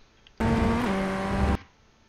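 Ray FF1600 formula race car in iRacing at the Rudskogen circuit, a loud engine note held for about a second with a pitch shift partway through, sharp start and stop, no talk.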